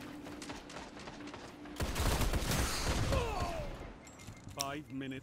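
Sniper shots and bursts of gunfire ring out in a multiplayer video game, a dense loud volley in the middle with sharper reports near the end, under excited player chatter.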